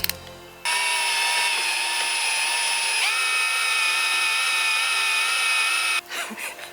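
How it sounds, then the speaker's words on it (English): An electric drill fitted with a stabilizing leg bores holes into a caravan, whining steadily and loudly for about five seconds with a slight pitch dip partway, then stopping. "So I'm going to try my electric drill stabilizing leg thing."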